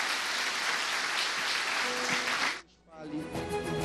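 Loud, dense applause from a church congregation for about two and a half seconds, then cutting off abruptly into a brief pause followed by a voice speaking.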